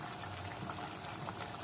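Meat broth for plov bubbles at a steady boil in a pot, a faint, even hiss and simmer with no speech over it.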